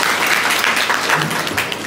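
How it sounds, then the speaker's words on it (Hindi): An audience claps steadily for two women at a spiritual talk, a dense, loud wash of applause that fills the whole short stretch. "ताली बजा दीजिए दोनों बहनों"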